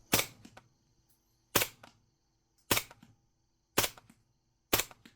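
Five sharp, muffled suppressed subsonic shots from a Mac 5 or HK SP5 fired into dirt ring out at evenly spaced intervals, each a short crack with a quick decay, with quiet gaps between.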